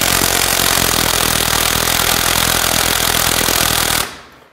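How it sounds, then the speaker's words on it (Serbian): A loud, continuous rapid hammering rattle from a tool loosening the nut on a car's tie rod, steady and close for about four seconds before cutting off abruptly. "Sad, odvrnut ćemo ovu maticu na sponi."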